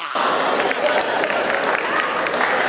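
Men in an audience at a Hindi comedy poetry event clap together in a dense, steady burst of applause that carries on without a break for a few seconds.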